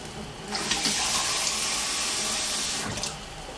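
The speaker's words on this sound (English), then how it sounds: "we're going to add to this some more water." Water pours steadily into a pan of gravy for a Salisbury steak, a continuous splashing rush lasting a couple of seconds that starts and stops abruptly, with no talking.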